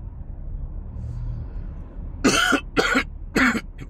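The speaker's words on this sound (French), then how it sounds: "j'ai une toux qui ne finit pas" Three harsh coughs in quick succession, close and loud, following a low rumbling background.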